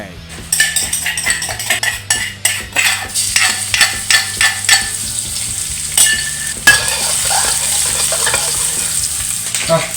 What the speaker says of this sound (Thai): ใส่น้ำมันลงไว้ผัดกระเทียม